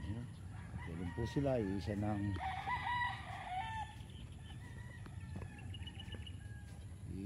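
Chickens on a farm cluck and a rooster crows nearby while a person talks over the flock.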